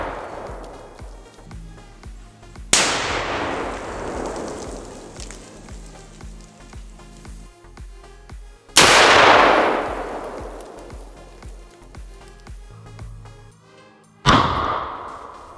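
A homemade nail bomb explodes outdoors in three loud, abrupt bangs spaced several seconds apart, each followed by a long ringing decay over a faint, steady ticking background.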